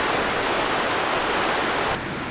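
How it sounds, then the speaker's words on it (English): A waterfall where the Pequest River runs into the Delaware at Belvidere, New Jersey, makes a steady, dense rushing roar that holds evenly throughout and softens slightly near the end, with no voices. "The waterfall can be enjoyed from the Humble Lions Club Park on the northern bank."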